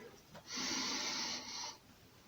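A single drawn-in breath during a guided breathing exercise, a soft airy inhale of just over a second, close and quiet, with no talking over it.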